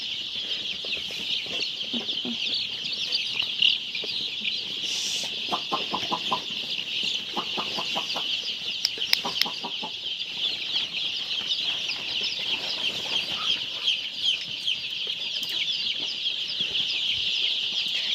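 Steady high-pitched peeping of many young layer hen chicks on a poultry farm fills the whole stretch, with occasional rapid clucking bursts and light wing flutters, continuous and fairly close.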